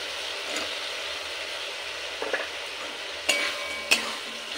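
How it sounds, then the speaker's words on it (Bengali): Fried shrimp and potato being stirred into a spice paste in a pan, a low steady sizzle with a few sharp spoon-on-pan clinks and scrapes, close by. "এবার দিয়ে দেব ভেজে রাখা চিংড়ি আর আলু।"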